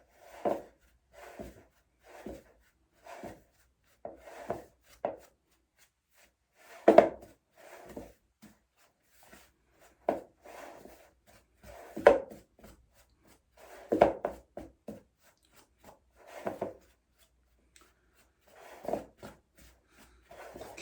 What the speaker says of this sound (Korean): 나머지 반죽을 한번 비벼 볼게요.